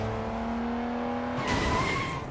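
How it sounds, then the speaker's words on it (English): A car in the video game Sleeping Dogs swerves and skids, with a steady engine drone giving way to a loud burst of tire squeal and scraping noise near the end, with no talking. "I found the button that swerves."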